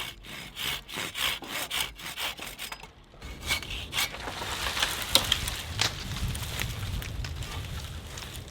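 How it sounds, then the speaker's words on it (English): A handsaw cuts through wood in a woodland setting, low on a tree: quick rhythmic rasping strokes at first, then after a brief pause a rougher, more continuous grinding of the blade through the cut. "As I am only using a handsaw"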